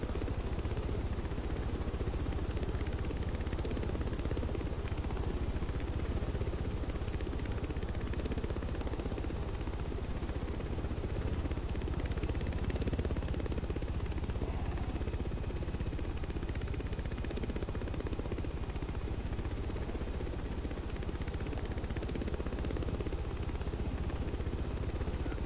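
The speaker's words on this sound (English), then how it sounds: "And the chopper auto hovers, so if you just leave it alone, it'll just stop itself and hover." A helicopter hovers steadily in the video game The Crew, giving off a continuous broadband whir and rotor hum at an even level with no talk over it.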